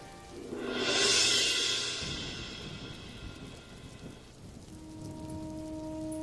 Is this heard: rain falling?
yes